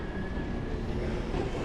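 A subway train at McGill metro station in Montreal rumbles steadily through the platform, a loud continuous roar with a thin high whine from the wheels, no talking.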